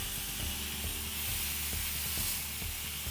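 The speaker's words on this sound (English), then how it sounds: "Heat the pan until it's smoking hot, and then place in your beef brisket to brown on all sides." Beef brisket sears in a smoking hot frying pan over high heat, giving a steady, even sizzle with faint crackles and pops underneath, close and continuous throughout.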